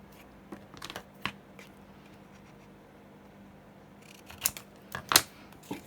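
Scissors snip paper into a small tag shape: a few sharp, close cuts spaced through the quiet, with a quick cluster of snips toward the end.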